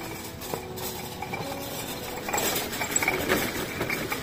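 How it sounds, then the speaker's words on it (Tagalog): Hooves of a horse pulling a kalesa carriage clip-clop along a street in a quick, uneven patter, faint at first and growing closer and louder toward the end, over soft outdoor background noise. "Kalesa ba tawag yan?"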